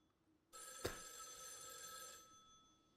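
A telephone rings in the Girls Frontline 2 video game, a single bright trilling burst of electronic bell tone lasting about two seconds before fading, with no voices.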